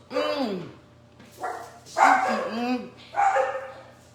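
Excited dogs barking in short bursts, several yips and barks close by in a kitchen where sausage is being cooked, with breaks between the bursts.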